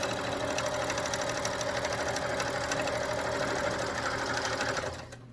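A sewing machine runs at a fast, even pace stitching fabric for a simple gift bag, its rapid mechanical chatter close and steady before winding down and stopping near the end.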